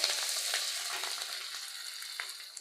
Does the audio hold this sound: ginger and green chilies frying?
yes